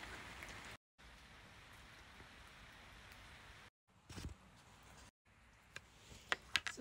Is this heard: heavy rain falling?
yes